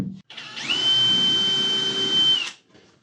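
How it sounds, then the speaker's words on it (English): Power drill driving 2-inch screws into wood while assembling a miter saw station, a single sustained motor whine rising to a steady high pitch for about two seconds, then cutting off. "I'm just going to turn it around so I can drive screws in from behind."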